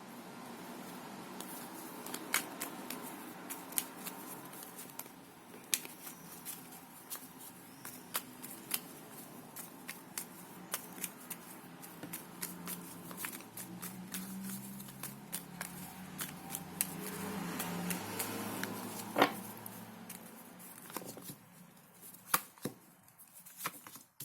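Soft papery riffles and clicks of cards being shuffled and handled, repeated in quick bursts at close range with no talking.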